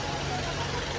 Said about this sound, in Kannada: ಈ ಬೋಟ್ ಸೌಂಡಲ್ಲಿ